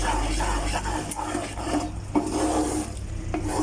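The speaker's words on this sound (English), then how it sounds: "See, it's bubbling up because it's cooking" A thick Mysore pak mixture of flour and sugar bubbles and sizzles in a pan while being stirred, with soft scraping strokes over a steady low hum.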